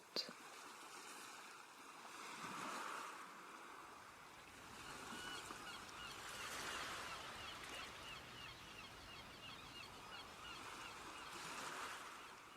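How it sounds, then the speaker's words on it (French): Steady rolling surf washes in continuously with swelling and fading surges, with faint bird calls scattered through the wash. "le bruit des vagues et des mouettes"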